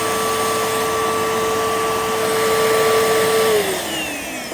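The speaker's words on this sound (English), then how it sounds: "As you can hear, the motor sounds pretty good for being used commercially" Bissell PowerForce vacuum cleaner with its motor running steadily and loud, a constant whine that dips slightly in pitch near the end as it starts to wind down, with no talking.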